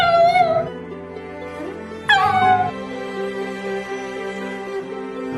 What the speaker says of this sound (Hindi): उसके बाद वो कुत्ता बहुत ज्यादा रोने लगा